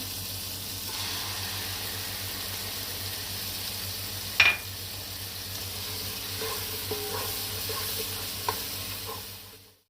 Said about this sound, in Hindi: मसाला भुन गया, इसमें हम 2 टमाटरों का पेस्ट शामिल कर देंगे।